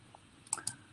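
A computer mouse gives two quick, faint clicks in close succession against a quiet background.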